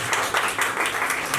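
A Hindi poetry-recital audience claps in a short burst, the many hands landing in loosely synchronized pulses that give a rough, rhythmic texture, fairly loud and close.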